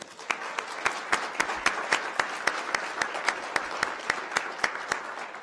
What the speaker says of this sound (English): So a round of applause for Bernalillo County